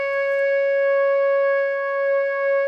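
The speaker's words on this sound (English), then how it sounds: "These sine waves produce in me a feeling of well-being, mostly." A steady pitched tone for a vocal tuning exercise holds loud and unbroken for nearly three seconds after a brief soft noise at the start.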